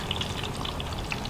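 Food frying in hot oil for a Chinese New Year meal, a dense, continuous sizzle and crackle close by with small pops scattered throughout and no talk.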